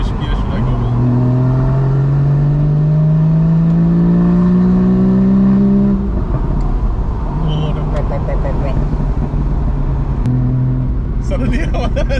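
A car engine revs up from inside the cabin, pitch climbing steadily, then dropping and settling into a loud steady drone with road noise underneath, while people talk.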